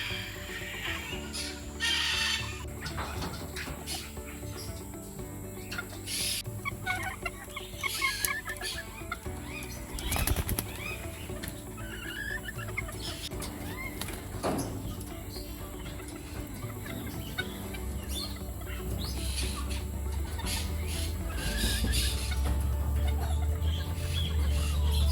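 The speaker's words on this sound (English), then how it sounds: "I have about 6 chickens each in there. Little bantams, tiny little bantams." Bantam chickens in a cage cluck and chatter steadily throughout, several birds close by, with occasional louder squawks and a low background rumble building toward the end.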